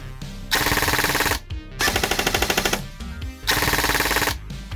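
A rare pistol firing fully automatic on a fresh battery, three long bursts of rapid shots with brief gaps between them, loud and close, with no talking.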